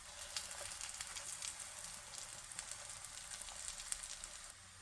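Curry-stuffed Ceylon parotta fries in oil on a flat pan, giving a steady, fine sizzle with scattered crackles throughout and no voices.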